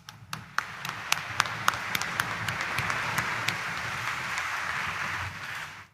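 A church congregation at the Quiapo shrine of Jesus Nazareno breaks into applause, a few separate claps swelling into dense, sustained clapping that fills the room, then stops abruptly.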